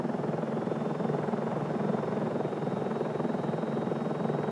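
Steady, loud helicopter rotor drone with a continuous thumping chop, close by and unbroken throughout.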